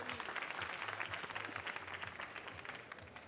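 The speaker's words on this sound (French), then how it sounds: "Vous pouvez l'applaudir là, oui." A small audience at a coffee tasting competition semi-final claps steadily in a fairly quiet room, a modest continuous patter of applause.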